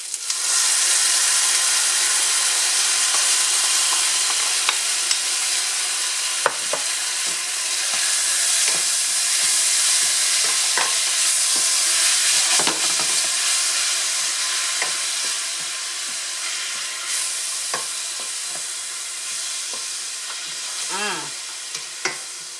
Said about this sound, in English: Now what I'm doing is sauteing the ingredients